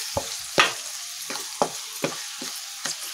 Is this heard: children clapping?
no